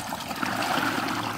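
Rainwater rushes and pours steadily into a temporary driveway drain where a sump pump is running, a continuous close gurgling flow with no talk.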